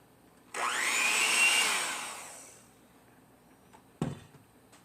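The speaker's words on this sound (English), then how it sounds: "And do a little more mixing." An electric mixer whirs loudly through tres leches cake batter for about two seconds, then winds down and fades, followed by a single clunk.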